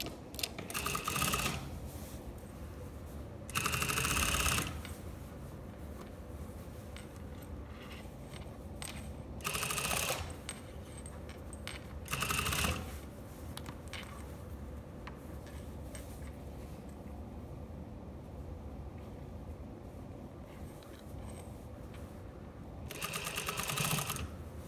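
A sewing machine top stitches along the seam of a lined dress in several short bursts of rapid mechanical ticking, separated by quieter pauses.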